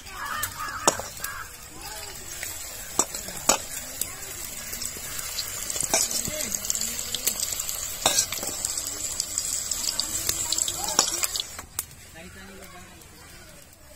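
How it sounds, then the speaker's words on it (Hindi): Manchurian balls deep frying in hot oil in a kadai, heard as a moderate bubbling sizzle with scattered sharp clinks and taps from utensils. The sizzle thins out toward the end, and a bird may call faintly in the background. "दोस्तों मंचूरियन फ्राई कर लिए हैं"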